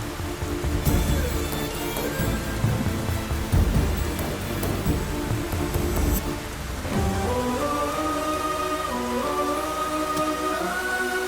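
Heavy rain pours steadily onto a surface, a dense continuous hiss with music-like tones emerging toward the end; no talking.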